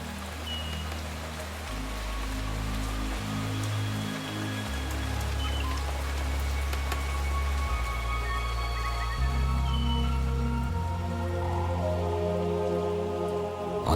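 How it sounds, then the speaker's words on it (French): Heavy tropical rain on Bora Bora beneath Mount Otemanu, pouring steadily in a dense hiss of drops, with a low, shifting drone underneath throughout. "lorsque le mont Otemanu arrête les nuages, il pleut jour et nuit"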